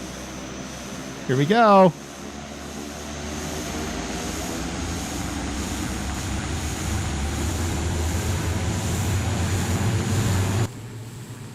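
A Pratt & Whitney Canada PT6A-62 turboprop of 1,149 horsepower on a Pilatus PC-9 in a flight simulator game spools up into a steady, loud engine drone, after a brief spoken remark at the start, before cutting off abruptly.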